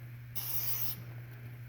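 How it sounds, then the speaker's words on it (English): A single sustained hiss of spray lubricant being applied to a garage door hinge lasts about half a second, close and fairly loud, over a low steady hum. "Just give it a good spray."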